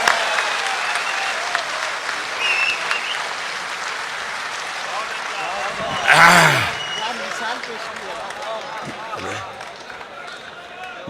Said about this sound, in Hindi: जोरदार तालियों के साथ बुलाइएगा।